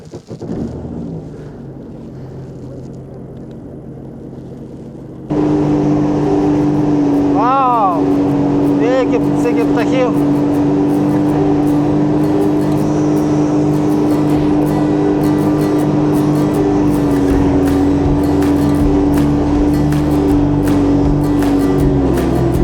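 A small motorboat engine on a Canadian lake starts abruptly after a few seconds and then runs steadily and loudly for the rest of the clip, with a rising whine briefly audible and wind and water noise underneath.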